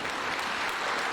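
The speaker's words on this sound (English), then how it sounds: "Let's give a big round of applause" A big round of applause follows a church-style prayer, steady dense clapping from a crowd filling the short moment without a break, fairly soft overall.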